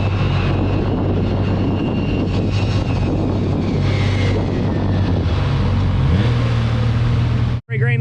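Aircraft engine running up at high power, a steady loud drone with strong low harmonics and a rising whine, heard from a distance on a remote beach strip at Sandy Cape; cuts abruptly near the end.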